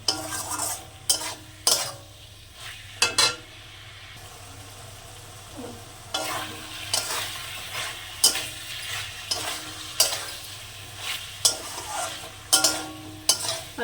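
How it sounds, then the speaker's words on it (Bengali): Chicken being stir-fried and braised in its own released juices in a pan, with spoon scrapes and knocks recurring irregularly over a steady low simmer and sizzle, close and moderately loud, no talking. "এটা জল দেবো এই জলটা দিয়েই চিকেনটাকে কষে নেবো"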